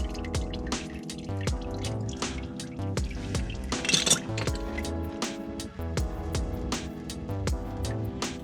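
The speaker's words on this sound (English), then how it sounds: "There's only going to be a small amount of oil that's draining off." Engine oil draining from the oil filter of a 2004-2011 Mitsubishi Endeavor during an oil change: a steady series of close drips and small splashes over a constant tonal background.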